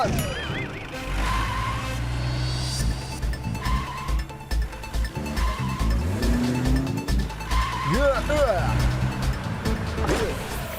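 A cartoon car races off in a chase, with a revving engine, swerving tire squeals and whooshes mixed under excited, overlapping voices.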